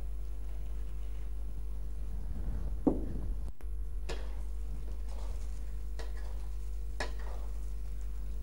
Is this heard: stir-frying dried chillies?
yes